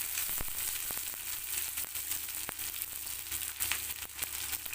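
Onions and green chillies fry in hot oil with mustard seeds that have already popped, making a dense, close, steady sizzle with small sharp crackles throughout.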